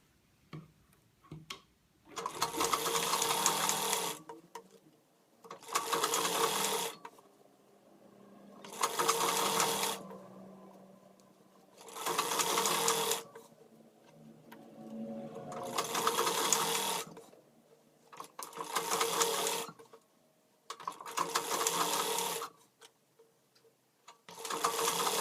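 A sewing machine stitches a child's umbrella skirt in about eight close bursts of rapid whirring, each lasting a second or two, separated by short quiet pauses and faint handling of the fabric.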